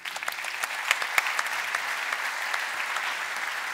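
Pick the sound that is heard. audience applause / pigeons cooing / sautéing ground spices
audience applause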